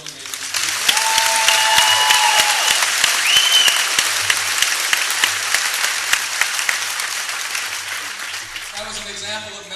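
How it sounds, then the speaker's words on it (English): An audience at a 2013 Douglas graduation ceremony applauds the speakers in a sustained, loud round of clapping, with a few cheers and whistles on top, tapering off near the end as a voice begins. "Let's give one more round of applause to all three of those amazing speakers."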